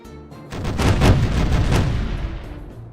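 Pirate ship cannons firing a broadside in the naval game Caribbean Legend, a burst of several heavy booming shots in quick succession that swell loud and then die away into rumble.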